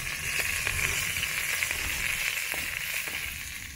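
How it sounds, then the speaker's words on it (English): Onion frying in a pot over a village cooking fire, a steady dense sizzle and crackle holding at an even level throughout with no voices over it. "So I put the onion. I add the onion."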